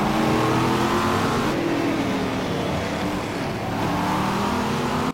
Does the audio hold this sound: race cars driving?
yes